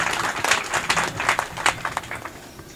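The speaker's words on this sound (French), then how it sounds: "Les applaudissements, s'il vous plaît." Applause from an audience at a Senegalese administrative gathering, a short burst of clapping with uneven, scattered claps that stays fairly steady through the clip.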